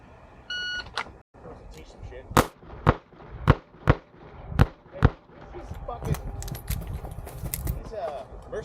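A revolver fires six evenly spaced, loud gunshots at an IDPA shooting match stage, each crack ringing out cleanly, with a start signal before them and people talking over the range noise afterward.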